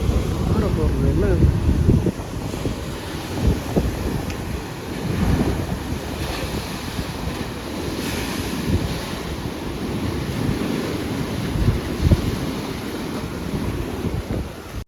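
Sea waves surge and wash against rocks on a rough beach, a continuous loud roar with swelling surges, buffeted by wind noise on the microphone.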